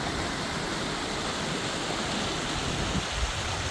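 Waratah River flowing past a caravan park in Waratah, a steady broadband rush of running water close by, continuous and even with no voices.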